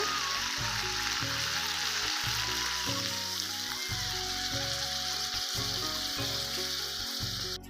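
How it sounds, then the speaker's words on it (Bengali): Water is poured into a pot of frying mutton and potatoes, and it sizzles and crackles steadily throughout. A repeating musical backing plays softly beneath the sizzle. "এবার জল দিয়ে দেব"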